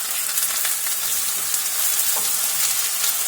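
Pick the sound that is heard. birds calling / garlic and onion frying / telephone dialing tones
garlic and onion frying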